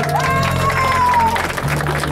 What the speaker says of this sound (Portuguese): Agora, as palmas são para vocês.